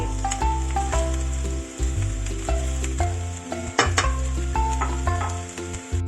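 Small shrimp sizzle and fry in a pan during quick home cooking of fried rice, a steady loud crackle with occasional clinks and stirring scrapes, no talking.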